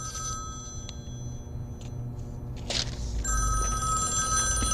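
A telephone rings with a bright electronic trill in a scene from the film John Wick, in several bursts with short gaps, the final ring continuing steadily.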